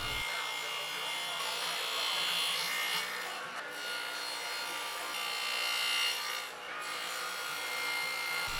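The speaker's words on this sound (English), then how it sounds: "Then I put my 1/2 inch dado blade into the table saw and cut the dados from my upright supports." A table saw fitted with a half-inch dado blade cuts dados into wooden upright supports, a loud continuous whining rasp that holds steady for several seconds, dips briefly twice, then stops abruptly.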